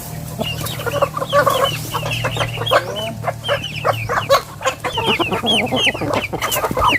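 Hungry Barred Plymouth Rock chickens cluck steadily and close by, a busy overlapping chorus of many birds with a few louder calls, set over a low steady hum on a rural farm.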